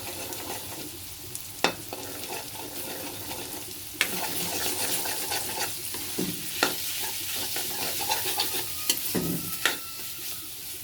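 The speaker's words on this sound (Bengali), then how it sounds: "ডিমটাকেও ভাজি করে নিলাম সাথে।" An egg fries in a pan with a steady sizzle and spattering, broken by sharp clicks and scrapes of stirring. No voices are heard.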